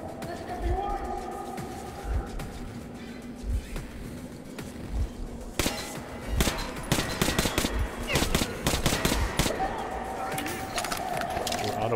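Gunfire in the shooter game Metro Last Light, scattered thuds early then a dense run of sharp rapid shots in the second half, loud and close, with a voice talking over it.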